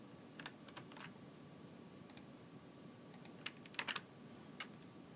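A computer keyboard is tapped in short, irregular bursts of faint, close keystroke clicks while a password is typed, with a quiet hum in the background and no talking.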